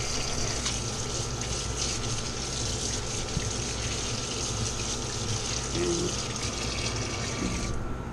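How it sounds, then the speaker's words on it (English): Steady running tap water pours into a kitchen sink for hand washing while a caramel pecan apple pie is being finished, a continuous close wash with no speech. "wash my hands"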